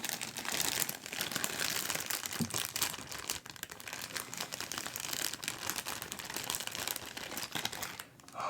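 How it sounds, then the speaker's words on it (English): A plastic bag crinkles steadily and close up while D&D miniatures are handled, with soft dense rustling and crackling throughout and no voice. "I hope the bag crinkling is kind of okay for you"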